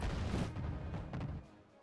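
Mortar fire in Arma 3, a short burst of deep booms and rumbling impacts, fairly distant and quiet, fading out toward the end.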